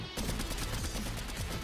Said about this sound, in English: I got sniped!